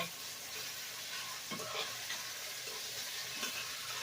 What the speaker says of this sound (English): You want to fry them. But you want to keep them moving because you don't want them to burn.